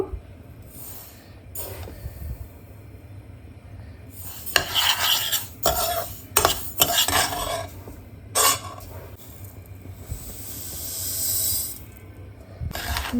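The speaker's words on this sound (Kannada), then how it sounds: "ಇವಾಗ ಇದಕ್ಕೆ ರಾಗಿನ ಸೇರಿಸ್ತಾ ಇದ್ದೀನಿ. ಇದನ್ನು ಸ್ವಲ್ಪ ಲೈಟಾಗಿ ಹುರ್ಕೊಳ್ಳಿ." Finger millet (ragi) being dry-roasted in a pan with a steady scraping stir, broken by several louder bursts of spoon-on-metal scraping and rattling grains, close and with no voices.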